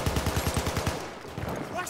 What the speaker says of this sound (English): Oh, is there someone shooting up here?